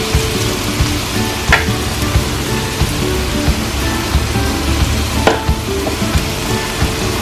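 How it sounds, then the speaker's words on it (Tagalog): Garlic and onion fry in hot oil for spicy pork adobo, a loud, rain-like sizzle running continuously with a couple of sharp utensil clicks as the pan is stirred. "Medyo lutuin pa natin ng konti yung ating sibuyas."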